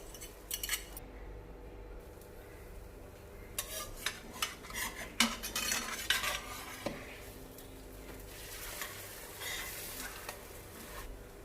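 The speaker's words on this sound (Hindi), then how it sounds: "अब हम इसको ऑमलेट बनाएंगे। यहाँ पे अच्छा सा बड़ा सा ऑमलेट बना लेंगे।" Beaten eggs with salt and black pepper cooking as an omelette in a pan, a steady soft sizzle with scattered utensil scrapes and clinks against the pan, close by and without speech.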